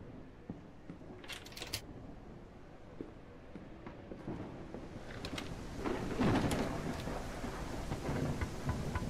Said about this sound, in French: on voit vraiment la pluie tomber sur ma bodycam